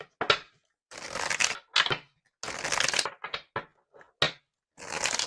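Several bursts of cards being shuffled and riffled close by, separated by short silent gaps, crisp and papery with no talking.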